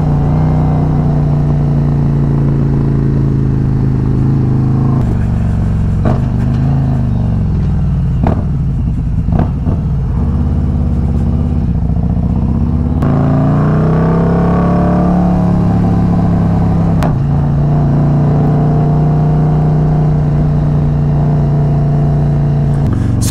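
A loud, deep Harley-Davidson motorcycle exhaust rumbles steadily, with a few throttle blips and revs rising and falling, close and continuous throughout.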